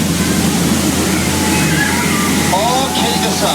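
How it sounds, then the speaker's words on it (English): A waterfall on the Disney World Jungle Cruise ride pours in a loud, continuous rushing roar close by, with a few brief higher whistling tones rising over it near the end. "That waterfall again."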